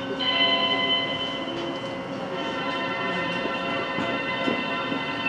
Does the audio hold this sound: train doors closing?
yes